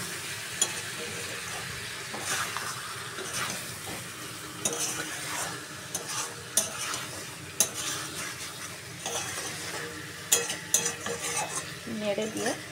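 Mutton curry being stirred in a pan with a spatula, scraping and clattering at an irregular pace over a soft steady sizzle, close by, with no talking.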